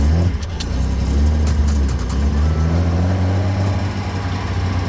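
Datsun 240Z engine running near and loud, a deep, rough rumble that rises slightly as the throttle is blipped, then settles back into a steady throbbing idle with no voices over it.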